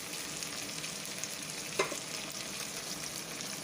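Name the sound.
sautéing onions and tomatoes in a pan for pepper curry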